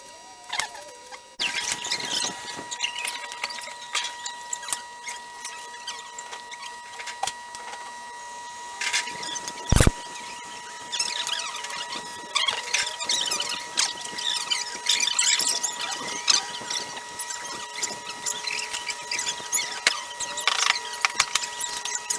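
Hand tools tightening the bracket of a Delkevic stainless exhaust on a Yamaha XS750 motorcycle: near, irregular metallic scraping, squeaking and ratcheting, with one sharp clank midway.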